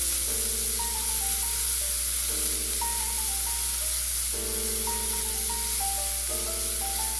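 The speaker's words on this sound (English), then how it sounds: "Add a little bit more oil. Put in the chopped ham. And stir for about 1 minute." Chopped ham sizzles and hisses steadily in hot oil in a small cast iron wok while being stirred, a continuous frying noise that sits beneath stepped background music throughout.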